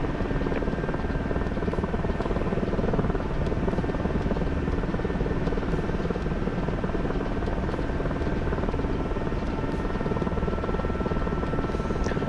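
A Mi-8 Hip helicopter in a flight sim game drones steadily throughout, with a continuous rotor and engine hum that stays loud and even, with no talk over it.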